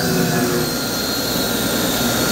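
A Shenandoah 315,000 BTU waste oil furnace burner runs with its combustion air fan blowing at the fire, a steady, loud broadband roar holding evenly throughout with no talk.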